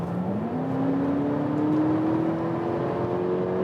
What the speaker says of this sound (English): You maybe also heard the engine here now.